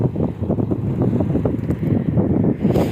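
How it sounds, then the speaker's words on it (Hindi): A strong, cold wind blows steadily over open village fields, a continuous loud rumbling gust of wind noise on the microphone with no voices. "हवा अभी भी चल रही है बहुत ज़्यादा"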